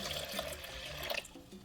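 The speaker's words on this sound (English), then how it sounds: "pour 2 of my 4 cups of water into my blender" Water poured into a blender jar over rice, almonds and cinnamon sticks for horchata, a steady close splashing pour running through the short moment with no voices.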